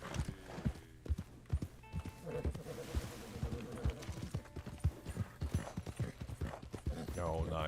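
Hoofbeats of a horse in the video game Red Dead Online clatter in a quick, repeated galloping rhythm, sharp and close, while a person talks over them and game sounds shift in the background.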